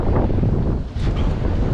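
Strong wind buffets the microphone outdoors in Las Vegas, a loud continuous roaring rumble with only a brief lull partway through.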